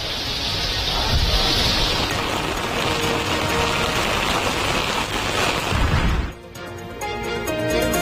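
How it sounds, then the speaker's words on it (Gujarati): Steady rain pours down in the Dabhoi area of Vadodara, a dense, loud hiss of drops on surfaces that continues for several seconds before cutting off abruptly near the end. "વડોદરાના ડભોઈ પંથકમાં વરસાદની શરૂઆત થઈ"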